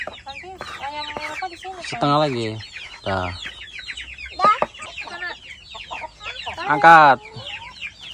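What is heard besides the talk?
chickens clucking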